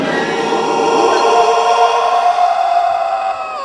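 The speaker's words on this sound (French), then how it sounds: "il émet un étrange son, c'est le cri d'un Dragon Crate." Krayt dragon cry from Star Wars on Tatooine: a loud, sustained, wavering tonal howl with layered harmonics that glides and slowly fades over a few seconds, heard alone without speech.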